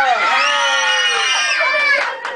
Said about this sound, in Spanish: ¡Gritos y aplausos para Colombia!